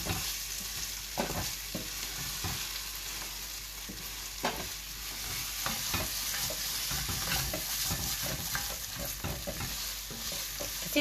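Onions frying for a lamb chop curry sizzle steadily in a pan over low heat, with scattered pops and spatters and occasional stirring scrapes, close and alone.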